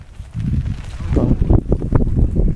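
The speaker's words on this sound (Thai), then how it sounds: "ลมมันแรงครับ" Strong wind buffets the microphone outdoors during a drone flight, a loud low rumbling roar with gusty surges, and a voice speaks over it partway through.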